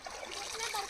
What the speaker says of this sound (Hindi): ये है मोजा धोने का असली तरीका, अभी नदी के पानी से